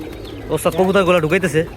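Pigeons at a home pigeon loft give a close, loud run of throaty rolling coos lasting about a second, with a few softer calls just before.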